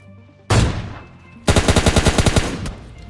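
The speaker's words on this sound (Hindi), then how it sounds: "सामने की तरफ से कुछ गन साउंड आते हैं और काफ़ी तगड़े थे गन साउंड" Gunfire in a shooter video game: a single loud blast, then a rapid burst of about ten close, evenly spaced automatic shots that die away, with no voices.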